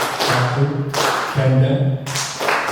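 A few separate hand claps sound at irregular intervals, close and sharp, with a person talking around them.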